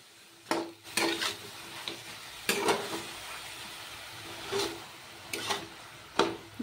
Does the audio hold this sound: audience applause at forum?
no